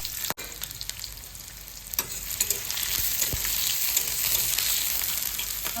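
Whole spices and onion frying in hot oil for a dhaba-style paneer gravy: a steady, close crackling sizzle that builds after a brief pause and runs continuously, with occasional stirring knocks and no talking.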